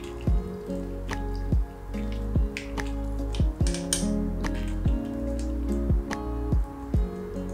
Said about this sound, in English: Squeeze out as much liquid from the prawn heads as you can.